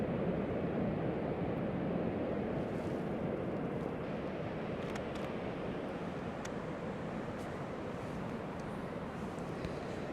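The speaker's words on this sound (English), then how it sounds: "The waves are definitely diminishing somewhat than they were 15 minutes ago." Ocean waves breaking on a shore at a landscape photography location, heard as a faint, continuous low roar of surf with some wind noise throughout, no voices.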